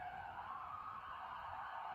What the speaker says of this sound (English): There's like the 3rd siren that's gone through in the past hour.